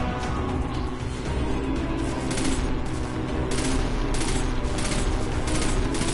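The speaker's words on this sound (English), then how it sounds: "Stop shooting at me while I kill your friend." Dense gunfire in Destiny 2, a loud continuous barrage of rapid shots and bursts layered over one another, with sharp repeated cracks standing out.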